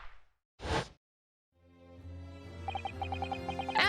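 A Venus special firework goes off in The Great Ace Attorney Chronicles with a single sharp gunshot-like crack, then a swelling stretch of game music with rhythmic chiming notes.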